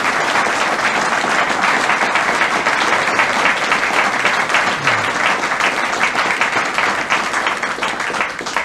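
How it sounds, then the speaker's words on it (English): An audience at a talk on rogue state WMD threats gives a speaker a sustained round of dense, even applause that holds steady at full strength for the whole stretch, with no voices over it. "Let's give him another round of applause."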